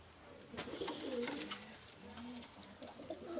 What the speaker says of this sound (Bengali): নেপালি চোখ হলুদ কবুতর